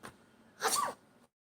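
A single human sneeze, short and fairly close: a faint intake of breath, then a sharp, breathy burst lasting about a third of a second, with no talking.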